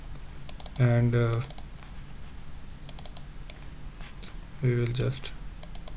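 Git clone command typed on a computer keyboard, giving faint scattered key clicks under a voice that speaks briefly twice.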